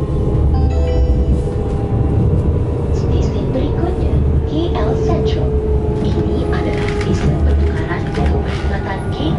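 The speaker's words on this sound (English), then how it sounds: "The journey from Bandar Tasik Selatan to KL Sentral using the KLIA Transit seems way faster than using the KTM Komuter train." Inside a KLIA Transit express train running from Bandar Tasik Selatan to KL Sentral, a loud, continuous rumble of wheels and carriage noise fills the cabin, with some faint voices underneath.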